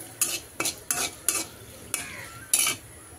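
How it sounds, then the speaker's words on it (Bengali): Chillies fry in a pan as a spoon stirs in six quick, close scraping strokes over a faint sizzle, each stroke a short bright rasp against the metal; no one speaks. "আগে মরিচগুলা ভাজা নেই।"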